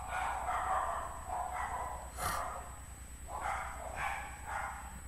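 Several dogs barking in short bursts at moderate distance, with a few separate volleys spread over a low, steady hum.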